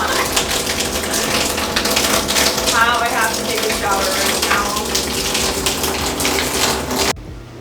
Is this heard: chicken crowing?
no